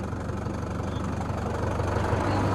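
A Sonalika tractor engine runs with a steady, close, low diesel rumble and a knocking throb throughout.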